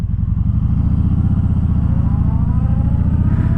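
A 2019 Kawasaki Vulcan Vaquero cruiser motorcycle, 883 pounds, under throttle while riding, its engine giving a loud, steady, close low-pitched rumbling pulse with no talk over it.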